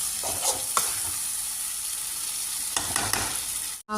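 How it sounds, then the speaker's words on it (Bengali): Spices sautéing in a pan, a steady close sizzle with occasional stirring scrapes and a sharp clatter near the end. "মশলা কষা যাচ্ছে"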